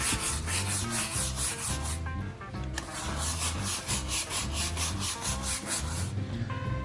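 Surface scrubbed with a cleaning product foam, a steady, rhythmic back-and-forth rubbing with a brush, loud and close, with no voices over it.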